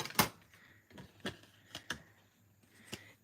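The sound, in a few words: die cutting machine cutting a paper circle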